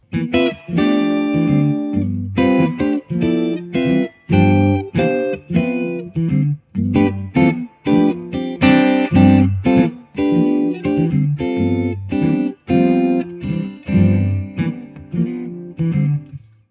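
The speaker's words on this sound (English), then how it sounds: "I'm playing chord solo, just a short one," Distorted electric guitar plays a short solo of stacked chords, moving in quick bursts and phrases, loud and alone with no talking.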